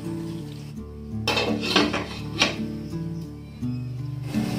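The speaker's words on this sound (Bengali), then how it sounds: "এবার আনারসটাকে একটু ভালো করে নাড়াচাড়া করে পাঁচ মিনিটের জন্য একদম লো ফ্লেমে ঢাকা দিয়ে রেখে দেবো" Pineapple chutney is stirred in a pan with a utensil, giving close metallic scrapes and clinks in irregular strokes, then a lid clanks down over the pan on low flame, over a low steady hum.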